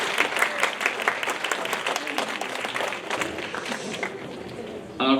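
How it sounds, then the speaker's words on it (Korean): Church chapel congregation at a student council worship service applauding the officers, a steady wash of clapping that fades out near the end before a louder sound. "학생회장을 비롯한 우리 임원들에게 다시 한번 뜨거운 격려의 박수 한번 해주시기 바랍니다"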